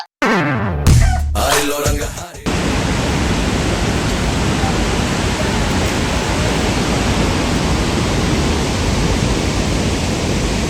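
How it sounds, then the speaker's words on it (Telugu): Water roaring out of the open Srisailam dam gates, a loud, dense, unbroken rush that fills the whole scene after a few seconds of muffled handling noise. "ఇక్కడ వాటర్ ఫాల్స్ అయితే ఓపెన్ అయినాయి శ్రీశైలంలో చూడండి తొమ్మిది గేట్లు"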